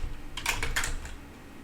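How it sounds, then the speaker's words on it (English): A few quick keystrokes clatter on a computer keyboard as code is typed, close and fairly loud over a low background hum. "shared code that I'm just typing now"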